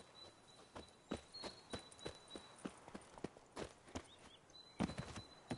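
Roach, the horse in The Witcher 3, clip-clops at a steady walking pace, each hoof striking crisply in an even rhythm, close and clear over a faint background.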